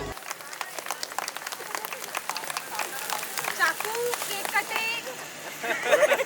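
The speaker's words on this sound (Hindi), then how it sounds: "तो एक बार जोरदार तालियां हो जाए दोनों के लिए" A wedding audience claps as the bride and groom join the stage, with dense applause running throughout and swelling near the end, under voices and crowd noise.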